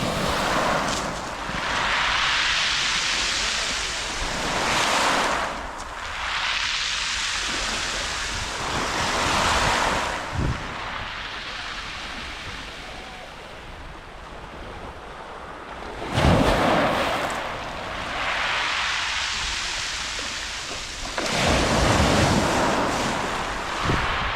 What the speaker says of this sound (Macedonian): тука е со поголеми бранови